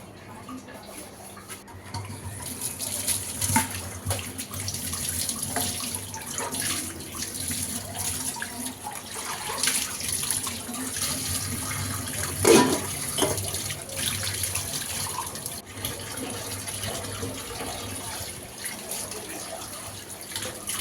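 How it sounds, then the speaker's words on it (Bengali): A tap runs steadily while cups, plates and bowls are washed beneath it, with splashing water and occasional clinks and knocks of dishware, moderately loud and close. "তো নাস্তাটা খাওয়ার পর এখন কাপ প্লেট বাটিগুলো এখন ধুয়ে নিব।"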